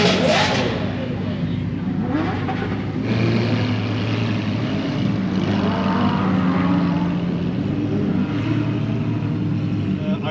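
A yellow Lamborghini Huracan Evo Spyder roars steadily with rising and falling engine revs, heard fairly close beneath people talking.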